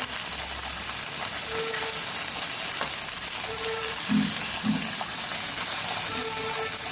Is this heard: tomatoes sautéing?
yes